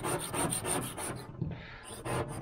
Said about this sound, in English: So we'll see if any of it scrapes off. I got a new razor blade here.